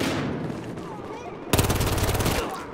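A Scorpion submachine gun in the video game Battlefield Hardline fires a rapid, loud burst of evenly spaced shots lasting about a second, after a stretch of quieter ambient game noise.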